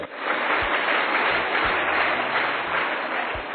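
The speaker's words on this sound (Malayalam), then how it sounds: "നല്ലൊരു കൈയടി കൊടുത്ത മിടുക്കന്" A hall audience at a Sacred Heart church parish meet claps for a schoolboy, a sustained wash of applause at moderate level that holds steady throughout.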